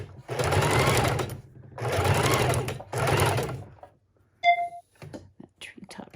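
Sewing machine stitching through a paper tag, three bursts of steady, rapid mechanical whirring separated by short pauses, followed by quiet handling sounds, a faint beep-like tone and soft talk.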